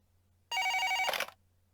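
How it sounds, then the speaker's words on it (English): Telephone in the Twilight Syndrome video game giving one short, bright electronic ring burst over a low steady hum, loud and close, then cutting off into quiet. "The phone's gonna start ringing."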